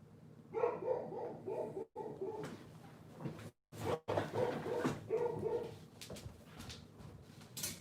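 A puppy named Dusty barks and yips in repeated bursts with short whimpers between them, close and fairly loud, indoors.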